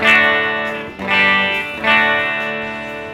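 A clean, bright electric guitar through a bright tube amp, no Tube Screamer, plays three sustained chords in succession, each strummed and left to ring out, with a warm amplified tone and no talking.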